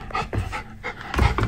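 A dog pants heavily at close range, quick rhythmic breaths in uneven bursts with a faint whimpering edge, loud and near with nothing else underneath.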